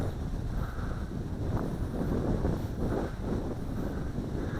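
Outdoors on an open field, strong wind buffets the microphone in a continuous low rumbling roar with gusty swells, loud and steady throughout with no voices.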